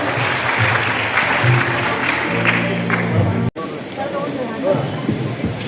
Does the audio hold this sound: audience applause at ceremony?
yes